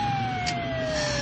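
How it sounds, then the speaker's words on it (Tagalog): Police car and ambulance sirens wailing together in a steady sustained tone, loud and near over a dense background roar, with no voices. "Ato na ang mga pulis ug ang ambulansya"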